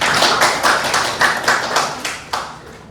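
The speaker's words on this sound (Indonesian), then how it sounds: "Oke, kita tepuk tangan" A short burst of rhythmic classroom hand clapping, roughly a dozen claps in a steady beat, close and fairly loud, slowing slightly toward the end.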